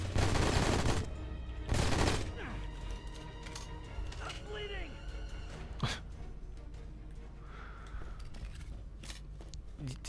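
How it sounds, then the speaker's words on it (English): Gunfire in the third-person shooter Left Alive comes as a few sharp, loud bursts early on, then a lone crack later. Quieter game noise and talking fill the stretches between the shots. "all those shots just missed"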